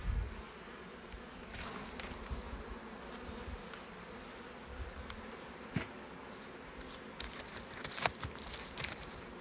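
Honey bees droning around a small, weak backyard hive: a continuous low, soft hum with occasional louder passes as individual bees fly near, and a few faint taps and rustles in the background.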